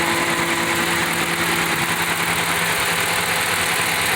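The Hemi V8 engine of a 2014 Ram 1500 Sport truck idles nearby, a steady loud rumble with a faint uneven lope and vibration throughout.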